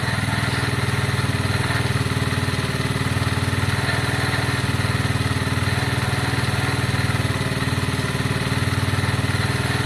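A Lexmoto Valiant motorcycle idling after conversion from fuel injection to a carburettor, with a loud, steady, close, smooth chugging at a slightly high idle, no talk.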